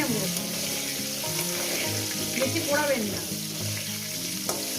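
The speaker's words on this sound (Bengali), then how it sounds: "না আমি দেখাচ্ছি কীভাবে ভাজছি" Pieces of pointed gourd fry in hot oil in a pan, giving a steady, close sizzle with occasional crackles and faint stirring, and a low background hum underneath, with no talking.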